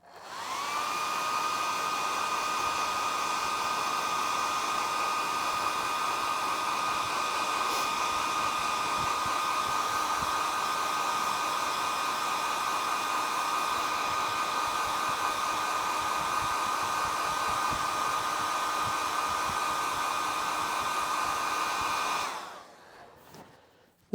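A hair dryer blows a steady, even whine for about twenty seconds over quick-drying filler on a leather bag's piping, then cuts off. No one speaks.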